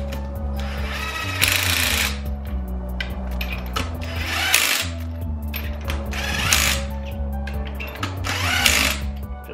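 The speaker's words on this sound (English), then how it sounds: "if you're wondering if I'm going to use the impact gun to do this, yes I am" Impact gun removing spark plugs on a 2013 Dodge Dart, firing in several loud, close bursts of rapid hammering separated by short pauses, with no talking.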